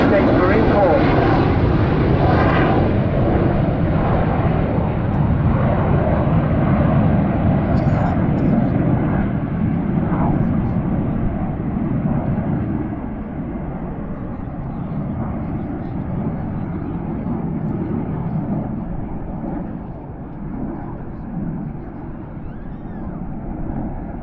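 RAF Red Arrows display jets roar past at the Southport airshow, a loud continuous jet engine rumble that slowly fades as the aircraft move away, with a commentator talking over it.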